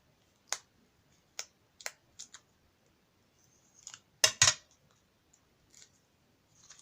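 Scissors snip sticky paper for an Easter card in a quiet room: several sharp, separate cuts spaced irregularly, then a louder cluster of quick snips near the end, close to the microphone.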